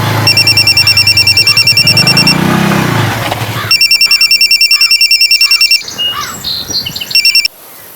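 An old-style telephone bell ringing loudly in two long, rapid trilling bursts separated by a pause, the second cut off abruptly; no voices are heard.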